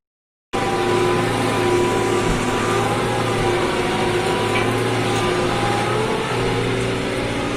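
A New Holland TD 100 tractor engine labours under heavy load while pulling an 11-tine subsoiler, a steady loud drone that starts after a brief silence and holds throughout without talk.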